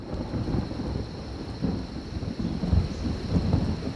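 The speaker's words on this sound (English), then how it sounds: "At the peak of the rainy season, the storms are now more than most animals might care to see." Rain pours steadily during a rainy-season thunderstorm while low thunder rumbles roll underneath, a dense, continuous wash heard alone at moderate loudness.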